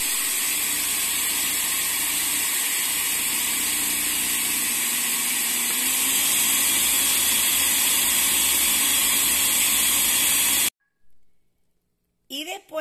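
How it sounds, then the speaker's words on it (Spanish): A countertop blender runs continuously, liquefying a raw egg with its shell for a face mask, a loud steady whir that cuts off abruptly near the end, followed by brief handling noises. "Pues vamos a parar un momentico y lo vamos a mover bien para que la cáscara se licúe correctamente."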